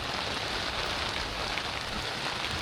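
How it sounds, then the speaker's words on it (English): Heavy, steady rain hisses continuously aboard a Contessa 26 yacht sailing under sail out of Cardiff, a dense close wash of drops with no pauses or voices. "We're sailing in horrible rain."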